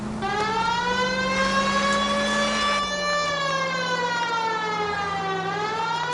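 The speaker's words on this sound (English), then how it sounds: "They might move if you use the siren, Phelps." A police car siren in the video game L.A. Noire sounds as a steady, droning wail that rises and falls slowly, holding at a moderate level throughout with no talk over it.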